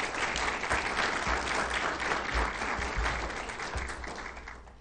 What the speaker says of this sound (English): would you join me in a round of applause for all of our sponsors?